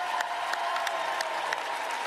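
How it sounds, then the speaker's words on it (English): Crowd applause for the men's netball team after the Fast5 final between New Zealand and Australia, a continuous moderate wash of clapping from a large audience with a few scattered cheers and a voice faintly audible beneath. "let's give the men's side a round of applause"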